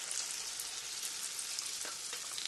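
Spoonfuls of jiló and calabresa sausage batter fry in hot oil with a steady, dense sizzle and faint crackling pops, close and continuous with no voices.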